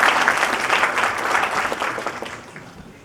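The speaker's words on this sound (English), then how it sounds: "Please give them a round of applause." An audience applauds a distinguished panel at an academic conference, clapping strong at first and then thinning and tapering off toward the close.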